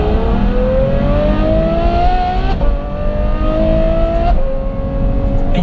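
A Ferrari F12 Berlinetta V12 with a Novitec N Largo exhaust and 100-cell catalysts revs hard and loud, a rising, sharp howl that climbs in pitch twice, each pull ending in a short break before building again.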